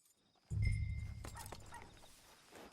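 Horse hooves clip-clop on a path in the video game Red Dead Redemption 2, a steady, soft rhythm beginning after a brief hush and continuing at moderate distance, with no talking.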